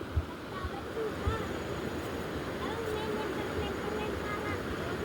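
Swift river water rushes over rocks at Koto Japang in Solok Selatan, a steady broadband roar that stays close and continuous with no clear breaks. Wind noise buffets the microphone at times.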